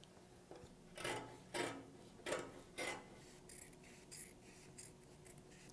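Pencil or chalk tracing a pattern outline onto doubled jacket lining fabric: a few short scratchy strokes in an irregular rhythm, close and fairly quiet, followed by softer faint scrapes, with no talking.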